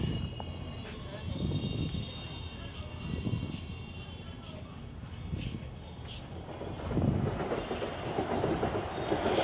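A train arriving at platform number 2 in a railway junction video game, a steady rolling rumble with faint rhythmic clicks and soft hissing that swells toward the end, under occasional talk.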